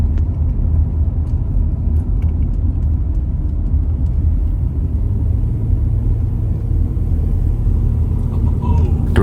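A car drives a quiet coastal road, Chuckanut Drive, heading toward Whidbey Island, a steady low road rumble and engine drone running close and unbroken throughout.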